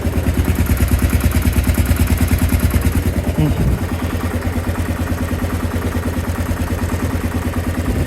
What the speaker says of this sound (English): It was idling a little too low